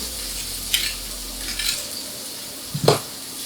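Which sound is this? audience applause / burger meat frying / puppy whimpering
burger meat frying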